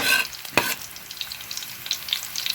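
Onion and garlic frying in a pan for chicken adobo, a bright sizzle with a sharp clatter early on and scattered spitting crackles as they are pushed around, no talk.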